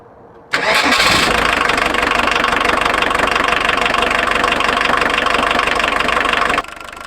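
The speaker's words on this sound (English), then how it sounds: "So now it's time to start up the van" A camper van engine cranks and catches, then settles into a loud, steady idle close by for about six seconds before cutting to a quieter level, with no voices.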